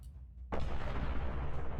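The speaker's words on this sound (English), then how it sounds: "big explosion. Everybody falls to the ground." A big explosion booms suddenly in a tabletop roleplaying game, a quiet lead-in giving way to a loud, sustained broadband blast and rumble that fills the rest of the moment.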